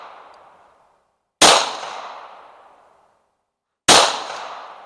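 Two sharp gunshots ring out several seconds apart at an outdoor range, aimed at a 4-inch steel hostage gong, each with a loud crack and a long fading echo, no talking.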